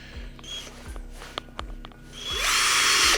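A Procraft PA212 cordless screwdriver drives a screw with a worn, broken bit that keeps slipping. Short ratcheting clicks and bursts lead into a louder, sustained whir of the motor up close.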